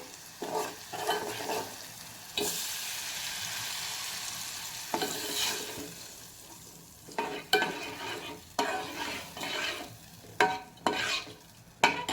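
Lentils sizzling in a hot pan, with repeated bursts of stirring and scraping at irregular intervals between quieter stretches of frying.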